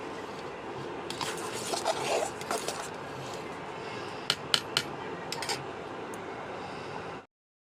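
A wok, ladle and basin clank and scrape at close range as they are scrubbed, with sharp knocks scattered over a steady rushing background.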